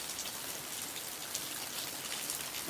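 Rain falls steadily as a soft, even hiss during a tornado rain band in Alabama, faint and unbroken, with no speech.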